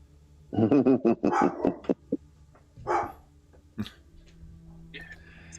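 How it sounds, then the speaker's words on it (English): Several sharp dog barks in a quick burst, then a few scattered single barks and throat-like grunts, fairly close and loud. "What are you barking at, Gooper?"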